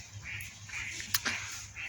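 A duck quacks loudly by a riverbank in a run of repeated nasal calls, close and fairly clear, with a brief sharp knock near the middle.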